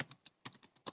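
Typing on a computer keyboard during Python data analysis work, a quick run of separate clicky keystrokes in an uneven rhythm, close and fairly quiet, with no talking.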